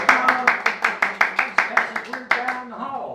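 Steady rhythmic hand claps greet an actor in a real estate pre-license classroom, close and fairly loud, about a dozen beats that slow and thin out at the end, with voices murmuring underneath.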